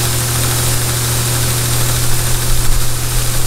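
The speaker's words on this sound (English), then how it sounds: "going to buff this broadhead out and see if it won't be razor sharp" A motorized buffing wheel spinning up to polish a broadhead, heard as a steady, loud electric hum with a broadband whirring hiss that thickens slightly toward the end.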